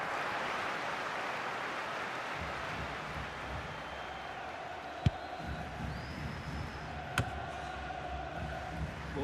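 Stadium crowd in the FC Mobile football game, a broad steady roar of many voices that swells slightly, with two sharp brief clicks partway through and no talking.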